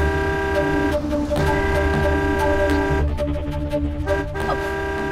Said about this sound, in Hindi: वो हॉर्न कर रहे हैं पीछे से